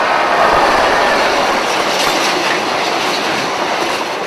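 A British Rail Class 86 electric locomotive hauls a Freightliner train past at speed, giving a loud, sustained roar of wheels and rushing air with faint rhythmic rail clatter throughout.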